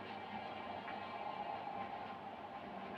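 A train rumbles steadily through a video game, a continuous dense mechanical roar holding even in level from start to finish with no voices over it.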